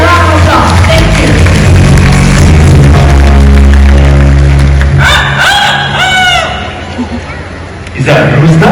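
A rooster crows several times in an outdoor park bird show at Bird Paradise Singapore, loud and close, with talk and crowd noise before it.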